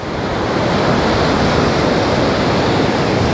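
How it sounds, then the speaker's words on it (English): Ocean surf rolls onto a beach near Grafton on the Australian coast as a steady, loud wash of breaking waves, continuous and broadband with a wind-like roar and no voices. "We can hear the waves when we are on our van."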